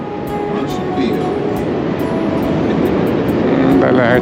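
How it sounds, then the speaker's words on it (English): A Chicago elevated train rumbles steadily overhead on a city street, loud and continuous with faint rhythmic clacks, heard from below while passing beneath the tracks. "as we go underneath the elevated train"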